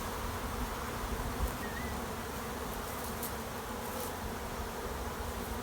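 Steady, dense buzzing of many honey bees swarming close by over brood, a continuous hum with no pauses and no voices.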